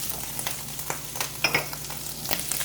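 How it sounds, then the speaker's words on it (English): Onions hit browned sausage in a frying pan, giving a steady sizzle with scattered crackles and stirring clinks at close range, with no talk. "I'm ready now to throw in my onions."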